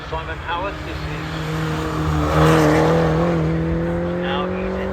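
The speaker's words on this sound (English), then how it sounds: "This is the Mini Cooper John Cooper Works car." A supercharged 1.6-litre Mini Cooper John Cooper Works racing car climbs a hillclimb course, its engine note rising steadily and swelling louder mid-pass over a rumbling outdoor background.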